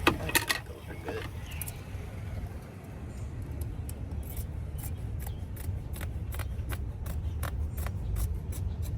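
Quick, faint snipping clicks come from cutting material for a wall panel inside a 1997 Chevy Astro van conversion. The clicks repeat in a loose rhythm over a low background hum, with a brief bit of speech near the start.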